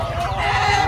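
Native chickens on a small poultry farm cluck and chatter close by in a short, dense burst with overlapping calls. No one speaks.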